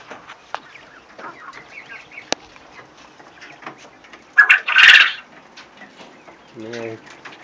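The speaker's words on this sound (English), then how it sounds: "I caught him crowing" A quail crows in a single short burst near the middle of the clip, loud and close, amid soft chirps and rustling from a pen of quail, with a lower clucking call near the end.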